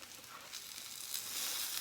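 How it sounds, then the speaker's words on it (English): A grilled cheese sandwich on sourdough cooks in a pan, giving a faint, soft, even sizzle that builds slightly toward the end, with no voices. "we've got the grilled cheese cooking"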